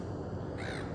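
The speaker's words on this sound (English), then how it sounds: "Hopefully you can hear me this morning over the seagulls." Gulls calling over Sydney Harbour on a morning waterfront, a harsh squawking cry rising near the end of a short stretch of steady background noise.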